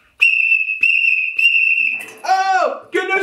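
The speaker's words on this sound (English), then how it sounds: "Whistles!" Whistles blown in a cheerful burst: three long steady shrill blasts in a row, followed by warbling, sliding toots, loud and close.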